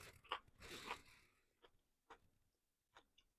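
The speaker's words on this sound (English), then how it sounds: "Who doesn't like a crispy, crunchy, pickly bite of spicy pickled veggies?" Spicy pickled giardiniera vegetables are bitten with a loud, crisp crunch, followed by several quieter, separate crunches of chewing up close.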